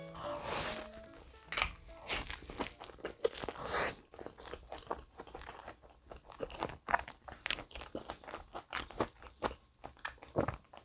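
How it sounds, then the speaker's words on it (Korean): Fresh figs are bitten and chewed up close, with crisp, crunchy bites and wet chewing in an irregular rhythm that carries on through the whole stretch, and no talking. "일단은 무화과부터 먹어볼게요."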